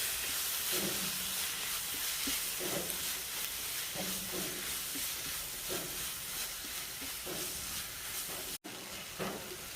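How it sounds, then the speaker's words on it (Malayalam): Onions and masala with coriander powder sauté in a hot pan, a steady loud sizzle with rhythmic scraping stirs every second or so, close and continuous without talk. "ഈ ഉള്ളിയിലൊക്കെ പിടിച്ച് വരുന്നവരെ മസാല ചൂടാകുന്നവരെ ഒന്ന് വഴറ്റി കൊടുക്കാം"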